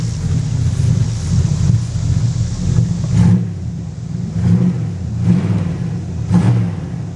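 A classic car engine revs repeatedly, each throttle blip swelling into a deep roar before settling back to idle, about five or six revs in a steady rhythm, close and loud.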